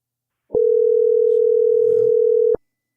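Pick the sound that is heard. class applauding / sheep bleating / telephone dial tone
telephone dial tone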